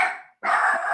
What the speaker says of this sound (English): my wiener dog is barking because there was a knock at the door